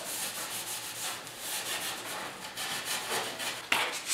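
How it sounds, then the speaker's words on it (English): A scuff cloth rubs across a front fender of a 1972 Ford 4x4 during paint prep, making repeated rhythmic back-and-forth scrubbing strokes that are close and fairly loud, with a sharp tap near the end. "Now a little scuff cloth action here."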